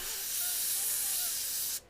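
Spray paint hisses from a can aimed right against a template, one steady, close airy burst lasting under two seconds before cutting off abruptly.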